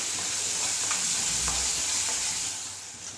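Ground coriander, fennel and masala spices fry in a pan with a loud, steady close sizzle and occasional stirring taps, fading slightly at the end.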